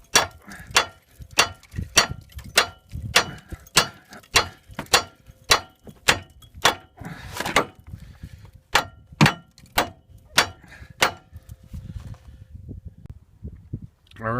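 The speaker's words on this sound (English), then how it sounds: "I'm going to whack it right by the ball joint, right up here with a hammer a couple times" A hammer strikes metal beside the upper ball joint of a 2000 GMC Sierra pickup, about twenty sharp, ringing clangs in a steady, close rhythm with a short pause midway.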